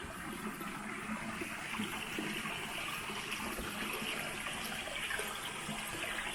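Continuous rushing flow of stream water, steady and even throughout, with no voices.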